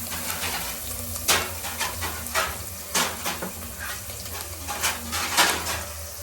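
Onions fry in a pan for a traditional Chapala Pulusu fish curry, giving a steady close sizzle broken by roughly a dozen sharp metallic clinks as a utensil stirs and scrapes the pan.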